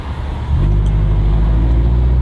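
Steady road traffic in Oakland, a loud, continuous low rumble of passing cars and engines nearby with no talk.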